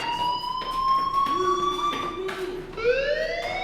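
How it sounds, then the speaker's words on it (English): Rising and falling electronic alarm tone from the Life is Strange video game, a fire alarm wailing steadily and loudly with a pitch that climbs in repeated sweeps, heard alone without speech. "do you hear that fire alarm? That means you should be outside."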